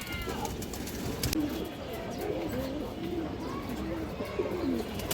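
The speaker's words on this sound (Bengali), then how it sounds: "পুরান লাইনের কবুতর দর্শক এগুলো।" Pigeons in a loft coo repeatedly, with several birds overlapping in soft, rolling calls close by over steady background noise and faint chirps.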